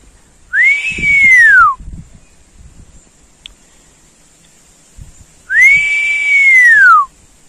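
Two clear whistled calls, each a rising then falling tone, sounded close and loud with a pause of several seconds between, against quiet outdoor rustling.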